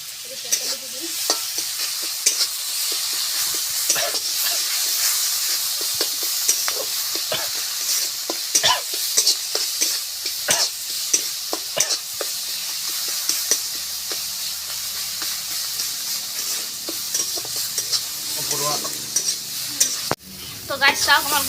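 Taro frying with tamarind in a pan, a continuous close sizzle with repeated spatula scrapes and stirring knocks throughout, no one speaking.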